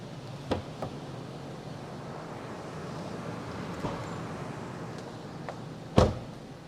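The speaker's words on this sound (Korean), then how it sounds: "차량 트렁크 한번 열어볼까요?" The trunk of a 2016 Hyundai LF Sonata 2.0 opens with a few light latch clicks, then a solid clunk near the end. Quiet low background rumble runs throughout.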